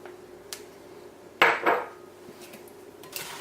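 Pie filling mixture tossed onto sliced apples for a homemade apple pie, heard as a couple of sharp clattering scrapes and bumps against the bowl around the middle, close and moderately loud, with quieter handling clinks before and after.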